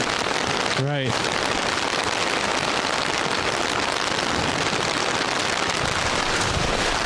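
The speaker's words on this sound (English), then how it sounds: "These young men are trying to stick it out in the rain, and so are we." Steady rain pours down on an outdoor sports field during a varsity game, a dense constant hiss close to the microphone, with a brief spoken word near the start.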